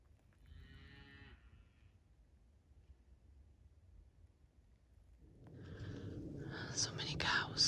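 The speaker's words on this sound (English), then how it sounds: "So many cows." Cattle moo near a ranch, one lowing call early on and then several overlapping moos later, faint to moderate and outdoors, with quiet whispered talk in the background.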